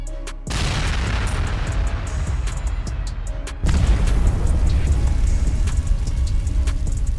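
A land mine detonates beneath an armored personnel carrier, a loud deep boom that opens abruptly, then a second heavy blast follows a few seconds later, with rumbling debris and crackling continuing throughout.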